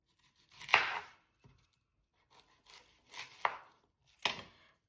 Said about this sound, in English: So right now we're just gonna cut more onions.